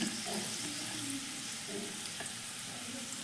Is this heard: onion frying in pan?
yes